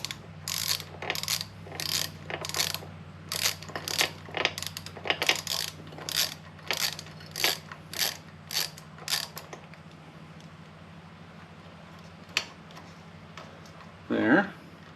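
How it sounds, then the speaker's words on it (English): Socket ratchet clicking in rapid repeated bursts while loosening a shock bolt on a pit bike, close and crisp, stopping partway through before a few lone clicks and a brief scrape. "Use a socket on there if you need, but it's not so tight that you're gonna damage the bolt, or nut I should say."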